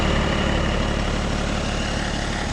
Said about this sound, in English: As you can see, the engine is running smooth, no knocking or no rattling, nothing.